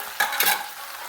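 Eggplant and capsicum hit hot tempered oil in a pan and are stirred, giving a short burst of sizzling with scraping stir strokes, close and fairly loud, with no voices.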